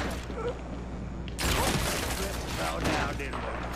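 A sniper rifle headshot in the video game Gears lands as a sudden loud broadband crack that gives way to a dense burst of game effects and scattered gunfire.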